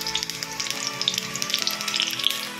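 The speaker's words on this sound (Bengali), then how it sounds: "অমিতাভ বললো ক্যাপসিকামই করে নাও, একটু ভাজা হলে খেতে ভালো লাগে। আজকে এনেছি ক্যাপসিকাম, তো ভাবলাম ঠিক আছে করে নিই" Capsicum frying in a home kitchen pan gives a steady, dense sizzle with scattered crackles and pops, close and fairly loud throughout, with no voices over it.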